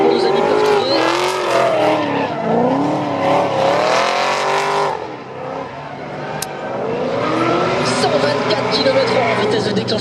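A drift car skids and revs at the Le Castellet round of the French drift championship, its engine howling up and down through long tyre-squealing slides, loud and continuous under excited French commentary.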